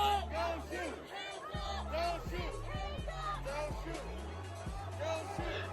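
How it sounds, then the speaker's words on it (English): A protest crowd gathered on a square's opposite corner, loud and dense, shouting and chattering together as a rhythmic chant begins to build, voices overlapping and close throughout. "The crowd forms on the opposite corner of the square facing them and begin to chant."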